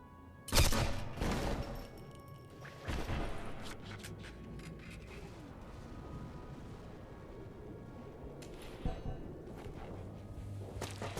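Pistol shots in the World War II shooter game Sniper Elite V2, a few sharp, loud cracks spaced apart with echoing tails, over a low rumbling game backdrop with faint footsteps.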